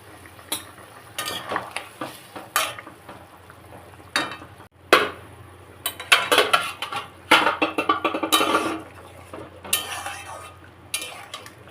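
Raw hilsa pieces and fried fish heads go into a curry with potato and green banana, simmering in hot water in a pan, with intermittent clinks and scrapes of utensils against the pan at close range.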